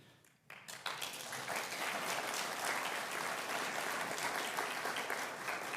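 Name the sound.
applause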